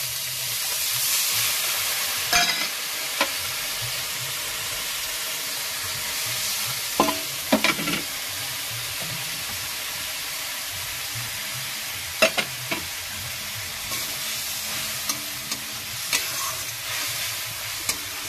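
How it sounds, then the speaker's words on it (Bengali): Coriander leaves and spices sauté in hot oil with a steady, loud sizzle that runs throughout, broken by occasional sharp scrapes and clicks of a spoon stirring the pan. "ধনে পাতাটা আমি কষিয়েই নেবো।"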